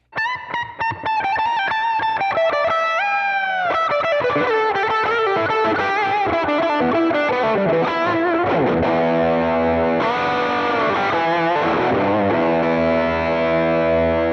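Heavily distorted electric guitar fitted with TV Jones Powertron Plus pickups plays sustained notes and then ringing chords, loud and saturated with effects, with no talking.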